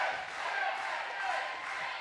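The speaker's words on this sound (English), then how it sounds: "Listen to this crowd chanting for Jake, Jake, Jake." A wrestling crowd at a Golden State Championship match in Vista, California roars and chants in unison for a wrestler, a loud, sustained mass of voices filling the arena without a break.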